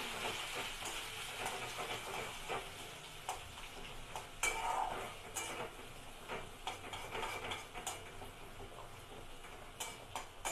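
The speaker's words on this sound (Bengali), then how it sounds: "চালটা অনেক ফাটবে, তেল ছিটকাতে পারে" Gobindobhog rice fries in oil in a pan, a quiet, steady hiss dotted with small crackles and pops, heard from a short distance.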